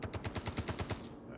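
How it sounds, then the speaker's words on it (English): Rapid automatic gunfire in the video game Star Citizen, about nine evenly spaced shots in a quick burst lasting about a second, fairly loud and close, with nothing else heard. "Alright, who's shooting?"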